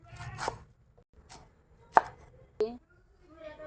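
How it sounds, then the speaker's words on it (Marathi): A knife finely chopping rolled taro (alu) leaves on a board, making a few distinct, sharp, separate chops with quiet pauses between them, close and fairly soft. "ही गुंडळली ती आता मी कापून घेते बारीक ही पानं अशी बारीक कापून घेते मी आता"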